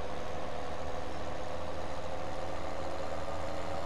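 A dump truck idles steadily while reversing its tipper body, with a continuous low engine rumble and no breaks, close and fairly loud throughout.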